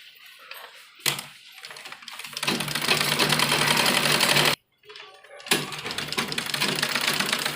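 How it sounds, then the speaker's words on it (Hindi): Sewing machine stitching double seams on palazzo pants, a steady rapid mechanical whir running in two long bursts separated by a brief stop, close and fairly loud. "तो ये सिलाई हमें डबल लगानी है।"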